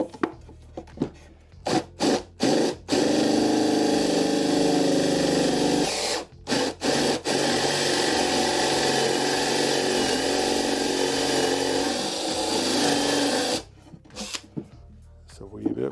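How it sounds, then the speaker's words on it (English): A power drill bores into wood at a raised speed during a DIY virtual pinball cabinet build, a loud, sustained whine broken into short bursts at the start and end, with someone talking in the gaps. "I'm going to increase the speed of the drill bit."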